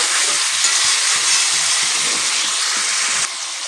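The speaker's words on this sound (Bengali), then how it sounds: "এবার লবণ দিয়ে আমি আরও একটুখানি নেড়ে চেড়ে নিচ্ছি।" Mutton curry sizzles and hisses in a hot pan while it is stirred after salt is added, a loud, continuous frying crackle with faint scraping.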